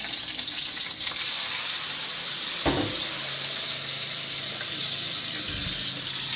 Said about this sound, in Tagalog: Gigisa ako ng petsay.